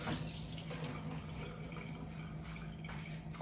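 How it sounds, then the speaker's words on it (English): Salmon is rinsed under a running kitchen tap, a steady close stream of splashing water with a faint background hum and no talking. "let me rinse this off"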